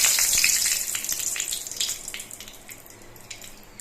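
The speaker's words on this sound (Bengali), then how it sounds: "সর্ষের তেলটা গরম হয়ে গেলে এর মধ্যে একটা তেজপাতাকে 2 টুকরো করে দিচ্ছি।" Halved bay leaf dropped into hot mustard oil, a bright crackling sizzle with sharp spits that gradually settles and softens over a few seconds, close and alone.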